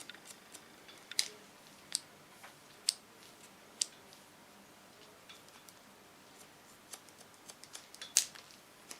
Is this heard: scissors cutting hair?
yes